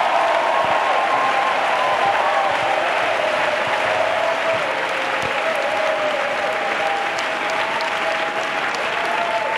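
A church congregation applauds for Jesus during a service, a dense, steady wall of clapping from a large crowd that holds at full loudness from start to finish, with faint voices mixed in.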